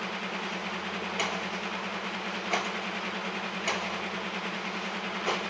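Locomotive-hauled train running in Train Simulator on the Cajon Pass route, a steady low engine drone with faint periodic clicks from the rails at roughly one-second intervals, heard alone.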